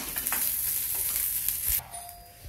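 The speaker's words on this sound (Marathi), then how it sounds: "कांदा भाजण्यामध्ये लसूण पण आणि अद्रक टाकून घेऊ, ते पण परतून घेऊ छान" Onion, garlic and ginger sizzle in a pan of hot oil for chole bhaji and are stirred, with loud frying throughout. A scrape of the spoon comes near the end, then the sizzle suddenly drops much quieter.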